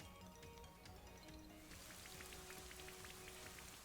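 Rain from the Rain Dance move in Pokemon Shield's Isle of Armor battle, a steady close patter of falling drops and splashes on a surface, thickening partway through, under faint game music with no talking.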